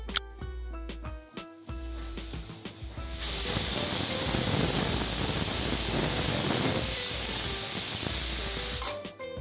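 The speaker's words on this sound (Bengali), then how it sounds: "প্রেসার কুকারের সিটির ভাপটা আগে বের করে নিতে হবে" Pressure cooker on a gas stove cooking chicken curry releases steam through its whistle as a loud, sustained, close hiss that swells in after a few seconds, holds steady, then cuts off.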